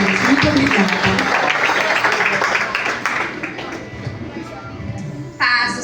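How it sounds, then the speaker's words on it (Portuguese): Church congregation applauding at a year-end fellowship service, a dense wash of clapping that fades somewhat toward the end, with voices mixed in and a brief sharp sound near the close. "Aplauda o Senhor."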